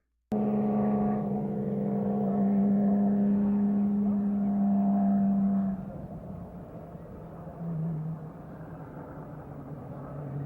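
Two Porsche race cars driving carefully on a wet track, their engines holding a steady droning note at moderate distance before easing off into a lower, quieter rumble.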